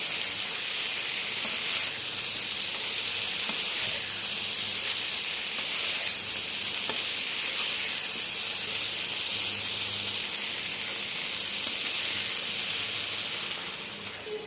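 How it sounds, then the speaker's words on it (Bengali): Winter vegetables being stir-fried with salt, before coral fish is added, give a loud, bright, unbroken hiss of frying that holds steady for the whole stretch and fades a little at the very end. "পরিমাণ মতো লবণ দিয়ে আমি সবজিটাকে একটু কষিয়ে নিচ্ছি।"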